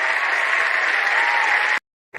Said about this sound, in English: we have the clip of the people clapping